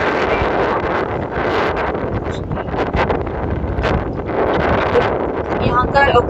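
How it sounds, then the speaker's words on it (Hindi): Strong wind gusts hard at Chandratal Lake, a high-altitude mountain lake, buffeting the mic in a loud, continuous rumbling roar with rustling bursts and surges throughout. "यहाँ पे बहुत ज़्यादा तेज़ हवा चल रही है, बहुत विंडी वेदर है"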